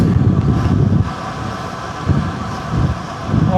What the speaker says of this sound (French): Un petit peu vent de face.